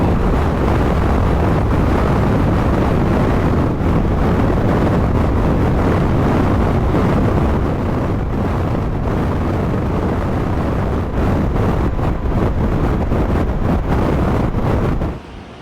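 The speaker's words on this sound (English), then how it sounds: "it is so windy." Strong, relentless wind roars and buffets the microphone during a Kansas dust storm, a loud continuous rush with gusty swells that drops off only at the very end.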